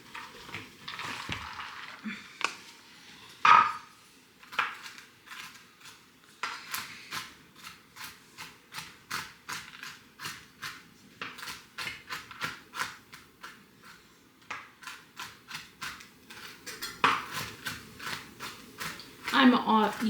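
Pecans being chopped with a knife on a board for applesauce cookies: a long run of quick, crisp, close chops in a steady rhythm, with a voice heard faintly at times.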